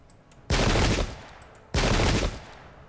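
Two musket volleys fired by ranks of soldiers in an English Civil War battle game set at Bristol, each a loud, dense crackling burst about half a second to a second long, the second following about a second later, with no talk.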